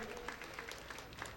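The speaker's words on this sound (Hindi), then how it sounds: "बहुत जोरदार तालियों के साथ हम स्वागत करते रहे" An audience at an achievement award ceremony claps steadily, faint and somewhat distant, a continuous patter of many hands.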